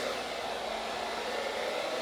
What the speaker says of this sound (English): The blow dryer moves it all as one.